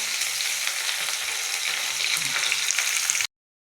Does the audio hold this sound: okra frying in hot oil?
yes